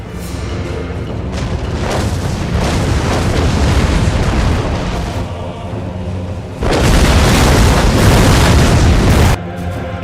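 Massed artillery and rocket fire rumble through a battle video game, a continuous dense roar of booms and explosions that swells louder partway through and cuts off briefly near the end.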